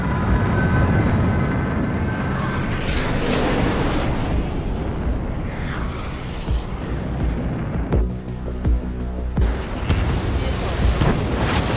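Missile launches and heavy explosions in a 2018 video game, rumbling booms and roaring blasts filling the whole stretch, loud and dense with a jet-like whoosh partway through.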